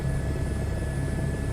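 A helicopter in a flight simulator game, shifting between forward flight and a hover while pulling more power, gives a steady, loud rotor and engine drone with a low pulsing hum and a constant high whine.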